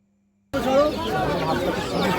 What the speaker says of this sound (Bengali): তার সাথে সাথে কিন্তু বিভিন্ন প্রজাতির মুরগিও এখানে পাওয়া যায়।